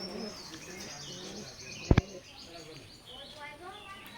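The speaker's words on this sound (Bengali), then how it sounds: "এখন স্ক্রিনে যে কবুতর জোড়া দেখতে পাচ্ছেন কেটিএম ব্লাড লাইনের এক জোড়া নিউ অ্যাডাল্ট কবুতর" A pair of new adult KTM blood line pigeons cooing softly and steadily near a loft, with chirps from other birds around and one sharp double knock partway through.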